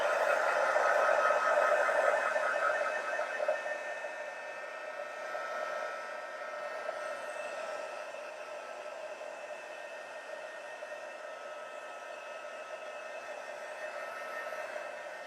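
An embossing heat gun blows hot air to dry embossing powder, giving a steady, close whirring hiss that starts loudest and then settles slightly quieter, running alone without a break.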